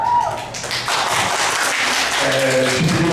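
An audience at a 2010 election debate breaks into scattered applause and clapping, mixed with murmuring voices and a few thumps, fairly loud and close throughout.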